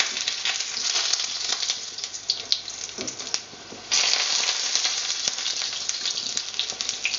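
Chikalang, Filipino fried sticky rice cakes, sizzle steadily in hot oil in a pan, a dense continuous frying hiss with a brief dip and then a louder burst as the cakes turn.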